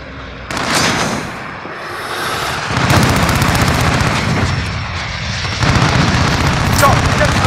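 Heavy gunfire and booming explosions from Call of Duty: Modern Warfare multiplayer on PS5, a dense, loud barrage with bursts that swell at intervals, while voices call out over the combat.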